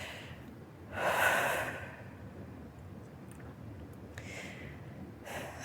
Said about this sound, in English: So let's take a couple deep breaths.